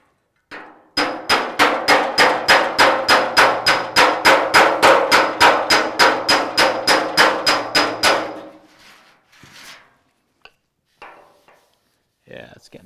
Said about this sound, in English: every time you hit it with the hammer a little bit, just check yourself with the file